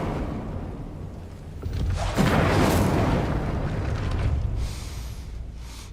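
An Incendio fire spell is cast in Hogwarts Legacy, producing a rising whoosh of flame that swells into a roaring, crackling burst. The burst then settles into a sustained, rumbling fire tail.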